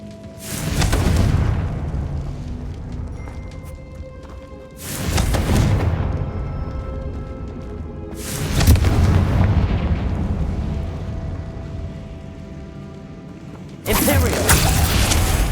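Four heavy, booming Confringo fire-spell blasts from Hogwarts Legacy erupt several seconds apart, each a loud burst that slowly decays under a sustained rumble of battle noise.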